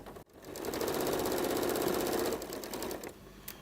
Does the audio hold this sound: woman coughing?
no